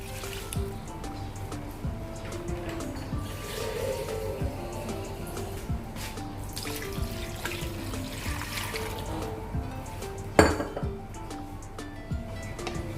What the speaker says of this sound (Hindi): पानी शामिल कर लेंगे, तकरीबन 1 लीटर के करीब हमने पानी शामिल करना है इसमें।